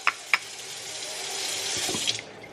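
Water runs steadily from a kitchen tap over hot soft-boiled eggs to cool them, a broad close hiss with a few brief knocks near the start and a clatter near the end.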